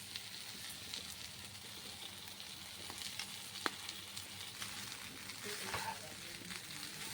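Cooked rice tossed into a frying pan with boiled potato and stirred, a soft steady sizzle with occasional scrapes and clinks of the spoon, fairly quiet and close.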